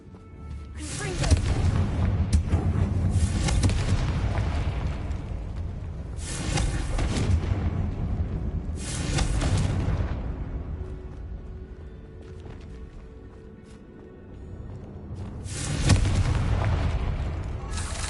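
Repeated heavy booming blasts from the Confringo blasting spell, four or five deep explosions spaced a few seconds apart, each swelling and fading with rumbling tails.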